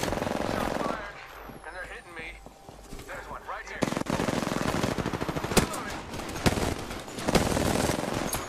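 Rapid bursts of automatic gunfire from the battle-royale game Apex Legends, dense overlapping shots in the second half, with voices talking over the gameplay.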